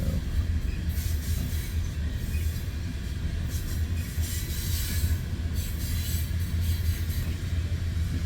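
A freight train rolls steadily past with its rear DPU locomotive, a continuous heavy rumble with rail clatter and occasional faint wheel squeals, close and unbroken for several seconds.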